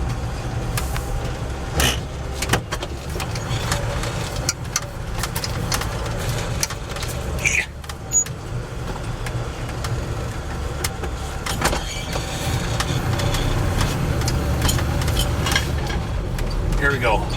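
A 1968 Chevy C10 pickup with advanced timing rumbles steadily while driving, its low engine drone continuous under road and cabin noise, with scattered clicks and rattles and brief sharper sounds near the middle.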